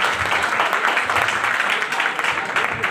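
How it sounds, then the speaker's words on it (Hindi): Audience applause at a WPL gathering, continuous dense clapping throughout the short stretch with a few voices mixed in. "एक जोरदार तालियां हमारे राजेश सर के लिए।"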